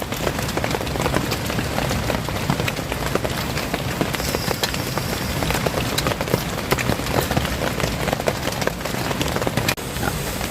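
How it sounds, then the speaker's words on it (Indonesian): Light drizzle falling at a campsite at the foot of a mountain, a dense, steady patter of raindrops on surfaces that holds evenly throughout without letup. "Hujannya sih emang kecil, hujan gerimis doang"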